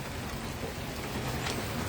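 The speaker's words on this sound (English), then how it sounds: "You hear that beautiful rain" Steady rain falls outdoors as a constant, even hiss of drops with no distinct individual impacts, moderately quiet, with no voices.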